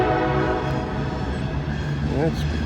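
Train passing on the old B&O line at a two-track crossing, steady rumbling and rail noise with a brief horn-like tone, people talking over it.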